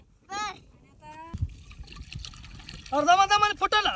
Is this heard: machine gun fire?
no